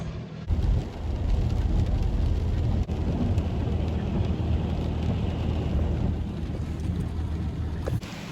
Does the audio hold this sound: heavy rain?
yes